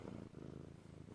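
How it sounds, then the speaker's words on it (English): A cat held in someone's arms purrs softly, close by, in a steady rhythmic rumble. "but she is purring in comfort and peace"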